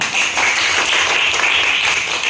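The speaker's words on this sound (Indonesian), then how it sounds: "Kelompok tepuk tangan semua dulu" A classroom group applauds together during a Quran recitation lesson at a teacher-training session in Madura: steady, dense clapping from many hands, fairly close and even in loudness throughout, with no voices on top.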